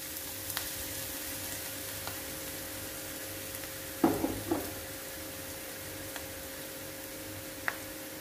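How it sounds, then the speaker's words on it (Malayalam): Ginger, garlic and onion fry with masala in a pan, making a quiet, steady sizzle. A brief cluster of stirring scrapes comes midway, with a few faint ticks scattered around it. "നമ്മുടെ ഇഞ്ചി വെളുത്തുള്ളി സവാള ഇതെല്ലാം ഒന്ന് നന്നായിട്ട് വഴന്നു വന്നിട്ടുണ്ട്"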